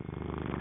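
A cat purrs close up, a soft rhythmic rumbling in a brief, steady stretch.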